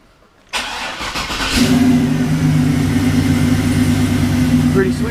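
An LS-swapped 1978 El Camino cranks over for about a second, fires up with a burst of revs, then settles into a loud, steady, rumbling idle close by.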